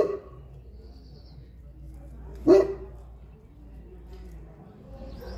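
A single bark from one of several dogs guarding a hedgehog family rings out nearby, with quiet background noise before and after it.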